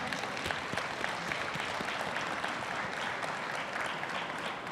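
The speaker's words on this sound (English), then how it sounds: "really give these people a big clap" Audience at a youth forum in Atlanta clapping together, a steady dense wash of applause that holds at an even level from start to finish with no voices above it.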